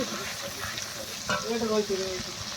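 Garlic cloves frying in hot oil in a pan for mutton masala alongside fried potatoes, a soft steady sizzle with a brief clatter of stirring midway.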